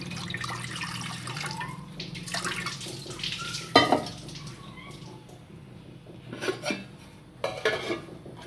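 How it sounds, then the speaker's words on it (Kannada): Water splashes and trickles into a metal pressure cooker, with clinks and knocks of pots and utensils scattered throughout, close and moderately loud. "ಈ ಕಡೆ ಕುಕ್ಕರ್ನ ಇಟ್ಟಿದ್ದೇನೆ ಇದಕ್ಕೆ ಸ್ವಲ್ಪ ನೀರು ಹಾಕ್ತಾ ಇದ್ದೀನಿ"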